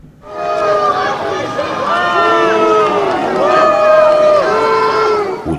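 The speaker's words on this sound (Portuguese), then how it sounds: "o presidente Emmanuel Macron foi recebido com vaias ao visitar uma escola" A crowd boos President Emmanuel Macron at a primary school in Marseille, with many overlapping drawn-out voices rising and falling, loud and sustained almost throughout.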